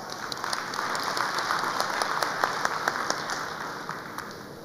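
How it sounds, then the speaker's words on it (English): An audience at the World Energy Congress 2013 opening keynote applauds steadily, many hands clapping at once in a dense, even patter that carries on without pause. "please welcome them with a big round of applause."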